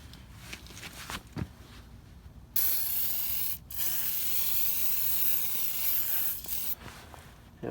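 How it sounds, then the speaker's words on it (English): Water sprays onto the wheels of a Barreto 30-SG stump grinder, heard as a steady close hiss that starts after a few faint knocks and runs for about five seconds with a brief break. "I'll spray the wheels, wet them down a little up in there, get it sprayed real good."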